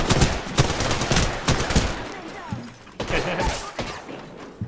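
Gunfire in a shooting video game, dense rapid volleys of close, sharp shots in bursts that pause briefly and then resume.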